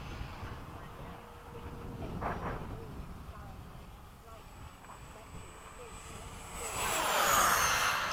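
F-4 jet fighter passing with afterburner lit, a building roar that rises loud near the end over steady wind noise, with people talking and exclaiming throughout.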